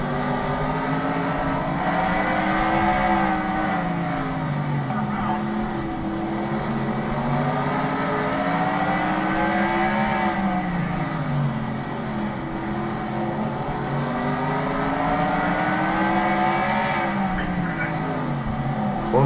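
Onboard engine of the 71 race car on a tiny dirt oval during the NORL Busch Bonanza Kubota 300 feature: a loud, continuous engine note rising and falling in steady waves as the driver accelerates and lifts through the corners.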